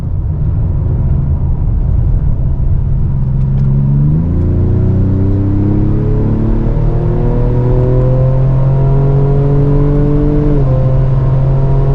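A 2025 Ford Explorer ST engine accelerates hard on the Road America track, pitch climbing steadily before dropping sharply at each quick 10-speed automatic gear shift, then rising again; continuous and close with no talking.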